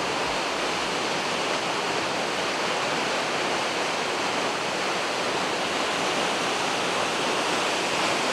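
A waterfall beside a valley along the Million Dollar Highway in Colorado roars with steady, dense rushing noise, loud and close, filling the whole stretch without pause.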